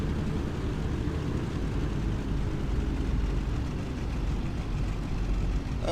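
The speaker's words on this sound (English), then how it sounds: "We're gonna do a normal takeoff." A Boeing 377 in the Prepar3D flight simulator rolls for takeoff, a dense, steady roar of piston engines filling the sound at a constant level with no talk.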